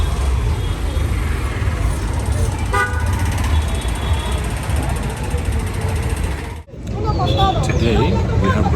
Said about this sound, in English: They honk because you're in the way.